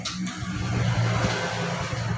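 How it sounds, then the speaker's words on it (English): A car engine hums steadily at close range, a low rumble with a slight rise in revving partway through, and no talking. "It's a vehicle, car."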